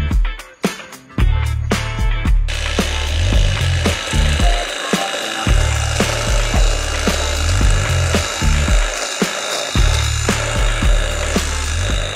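A DCK 58V battery brush cutter chews through thick wood with a steady, loud grinding whir, its blade rasping through the stem in a sustained buzz after a few stuttering starts.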